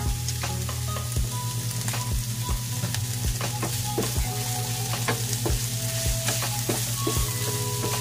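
Pork meat fries in a pan with a loud, steady sizzle up close, while sharp scrapes and taps from a stirring utensil repeat at a regular rhythm and a low hum runs underneath.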